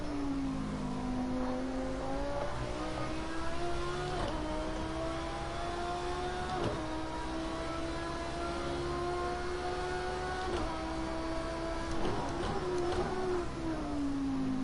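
A GT3 race car engine at Long Beach in the Project Cars 2 video game drones steadily, with its pitch climbing through gears and dipping under braking in repeated cycles.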